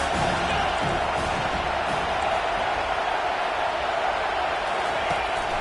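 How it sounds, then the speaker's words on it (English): A college football stadium crowd roars as a broad, steady wash of noise, distant and diffuse, mixed with a game broadcast. "This crowd trying to make life miserable for this offense."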